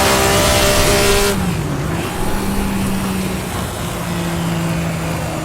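A race car engine from the Assetto Corsa sim racing game runs loud and steady, winding up and shifting through the gears as the car carries speed into a corner without brakes.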